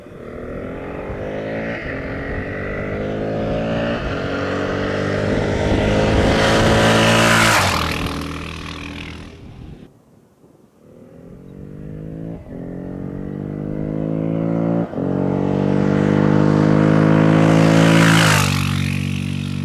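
A 2023 Honda XR650L single-cylinder motorcycle engine with a side-panel air intake mod and a red Uni filter revs up in two long, rising pulls, each dropping back between them, loud and close with no talk.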